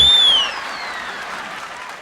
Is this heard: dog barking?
no